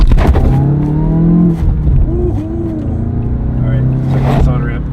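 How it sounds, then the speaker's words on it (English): A 2017 Toyota Yaris iA accelerating hard, its engine droning loud and rising in pitch from inside the cabin, with a person talking over the engine noise partway through. "Acceleration test."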